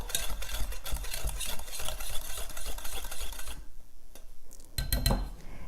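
Flour, baking soda and salt are mixed in a bowl for cinnamon roll scones, with brisk rustling and scraping strokes for several seconds, a short pause, then a few louder knocks and clatters near the end.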